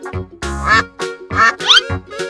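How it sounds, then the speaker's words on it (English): A cartoon duck quacks four times in quick succession, loud and close, with nasal, squawking tones and no talking. "Duck."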